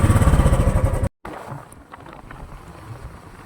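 Loud, close motorcycle engine putters rhythmically, cuts out abruptly, then a quieter rumbling ride noise with wind continues.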